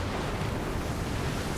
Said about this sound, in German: wind rises.